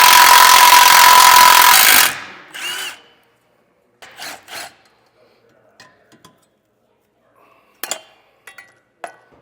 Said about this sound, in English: We need to remove the 2 bolts holding our tow hooks in place.